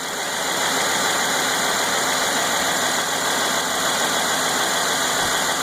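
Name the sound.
Mercedes car engine idling down as it warms up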